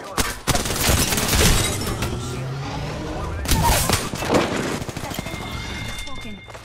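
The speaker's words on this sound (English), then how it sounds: "I'm in trouble. Getting shot at." Video game gunfire in a firefight: a burst of sharp shots near the start, then more rapid cracks and blasts partway through, among layered in-game effects and background noise, with talking heard over them.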